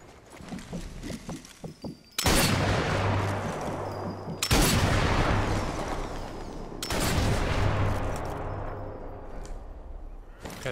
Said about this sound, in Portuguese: Eu tô errando vários tiros ainda nos caras ainda.